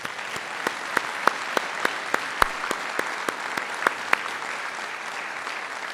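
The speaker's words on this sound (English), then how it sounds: "that deserves a big applause as well" Conference audience applauds steadily at an evening cryptography rump session, a dense patter of claps with a few sharper individual claps standing out, no talking over it.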